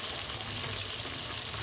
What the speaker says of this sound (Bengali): চিলি চিকেনের পকোড়াগুলো আমি ভেজে নিচ্ছি